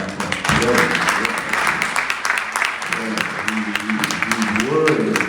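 A worship congregation at a Sunday church service clapping their hands in praise: loud, continuous, densely packed clapping with voices shouting and singing over it throughout.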